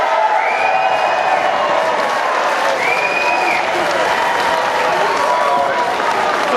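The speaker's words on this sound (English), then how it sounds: "Give yourselves a round of applause." A large crowd of about a thousand packed into a wrestling venue in Webster breaks into loud, continuous applause and cheering, with whoops and a few raised voices carrying over the sustained roar.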